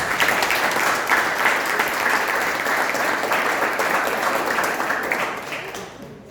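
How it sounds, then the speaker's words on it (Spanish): A church congregation gives sustained, dense applause. It holds steady throughout, then tapers off at the end. "¿Cuánto le damos un fuerte aplauso a Rey de Reyes?"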